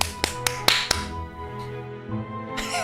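Hand claps in The Great Ace Attorney Chronicles game: five sharp, bright claps in a quick uneven burst near the start, followed by background game music and ambience.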